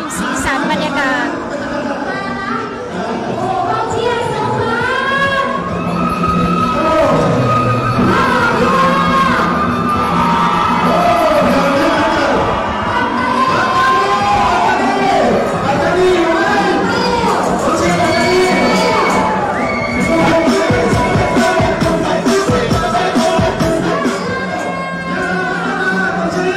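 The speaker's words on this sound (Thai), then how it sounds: "กองเชียร์นะคะก็มาร่วมสีสันบรรยากาศ" Crowd of supporters cheering and shouting at a futsal football match in Thailand's southern border region, a steady loud mass of voices with whoops and children's yells, sustained throughout.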